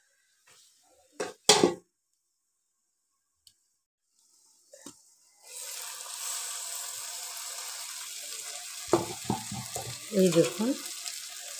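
Mourala fish frying in a pan for a fish recipe, a steady sizzle starting partway through after a few knocks, with a brief spoken remark at the start and louder clattering bursts near the end.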